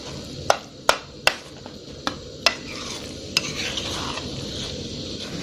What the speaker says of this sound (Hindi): इसको अच्छी तरह फ्राई कर लेंगे।